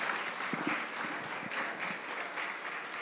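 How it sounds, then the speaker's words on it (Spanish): A church congregation gives a sustained round of applause to the Lord, with dense, continuous clapping, a few sharper individual claps and some murmured voices underneath. "Denle un aplauso ahí al Señor, hermanos."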